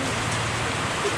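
Steady rainfall in a rural province, a soft continuous hiss with no distinct drops standing out, lasting only a moment.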